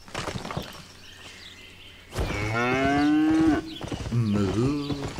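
Cattle moo in the video game Albion Online: a couple of light knocks, then two drawn-out, fairly loud moos, the second rising and falling in pitch.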